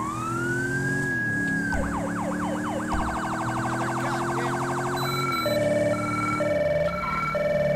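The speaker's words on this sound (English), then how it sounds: "We're still using the Federal Signal Delta siren" A Federal Signal Delta siren on a police vehicle in Grand Theft Auto V cycles through several tones, first a rising wail, then a fast yelp and a rapid piercing phaser, then alternating hi-lo tones, loud and close over a steady engine drone.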